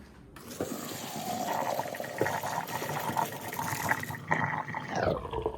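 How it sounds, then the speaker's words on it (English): Hot noodle water poured out into a colander in a kitchen sink, a loud, continuous rushing and splashing that runs steadily for several seconds before tapering and shifting near the end. "Now that the noodles are done, I'm going to drain the water out in the colander here in the sink."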